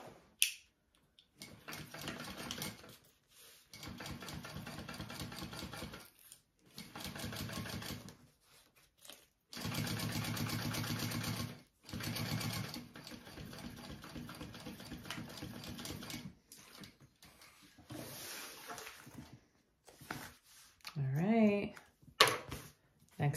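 A sewing machine top-stitches along the flap of a small fold-and-zip fabric backpack, running in several close, steady bursts of rapid mechanical chatter separated by short pauses, with a quicker clattering flurry near the end.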